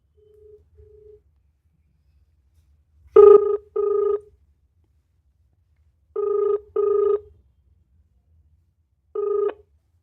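Ringback tone of an outgoing phone call, heard through the handset: short paired buzzing rings repeating every few seconds, clear and close with silence between, preceded by a faint brief tone.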